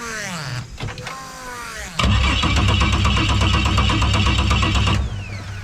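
A turbo Barra-engined boat's fuel pump primes with a steady electric whine and buzz, starting abruptly after a brief clatter and running continuously for about three seconds before cutting off.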